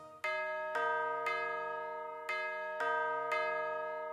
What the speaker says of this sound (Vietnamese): chuông sáng nay đang reo kìa